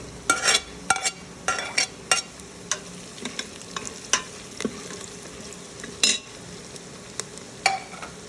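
Onions browning in a hot pan for an aloo rajmah sabzi, with ginger going in, sizzle and frying hiss under repeated sharp scrapes and clinks of a spoon stirring against the pan, no voices.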